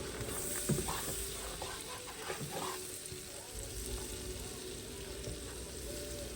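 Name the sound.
butter melting and stirred in pan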